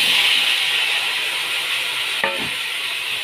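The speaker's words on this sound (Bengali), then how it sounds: "একটু ভাজা ভাজা করি এখন" Vegetables fry in hot oil with dried chilli and panch phoron for a spinach curry, a steady bright sizzle with a brief clatter of stirring partway through.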